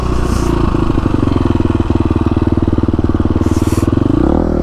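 A KTM 350 SX-F dirt bike rides through the desert, its engine loud and close with a steady rapid buzzing drone that dips and shifts pitch as the throttle changes near the end.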